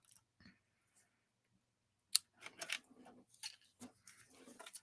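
Scissors snip through die-cut paper leaves for a rustic harvest craft, giving a few sharp, close, quiet cuts with crisp clicks in an otherwise quiet room.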